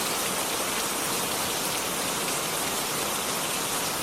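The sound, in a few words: rain falling outside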